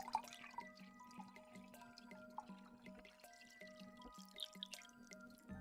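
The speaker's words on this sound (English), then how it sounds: "You all got some nice water ASMR" Water is poured into a cup in a quiet room, a soft trickle with light drips and splashes running for several seconds under a faint background tone.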